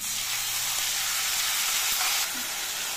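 Ginger paste and tomato paste sizzle in a hot pan with a loud, continuous hiss that holds steady throughout, broken only by a faint clink partway through.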